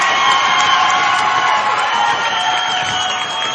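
Crowd cheering loudly in a gym at a junior college volleyball quarterfinal, a dense, sustained roar of shouts and whoops with a commentator's voice running over it.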